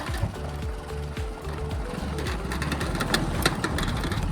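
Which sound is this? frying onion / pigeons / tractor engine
tractor engine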